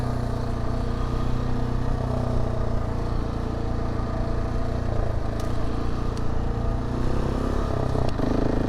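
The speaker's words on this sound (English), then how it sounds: "But the motorcycle is obviously handling it just fine." A motorcycle engine drones steadily close by under continuous riding noise on a sandy trail, with a few light clatters near the end.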